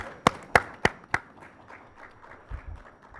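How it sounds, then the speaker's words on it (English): Four sharp, separate hand claps ring out close together at a public board meeting after a unanimous vote. The claps come in an even rhythm, then trail off into quiet room tone with a low thump near the end. "I think we can clap for that."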